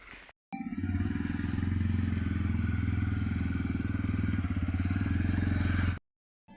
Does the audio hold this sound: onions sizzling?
no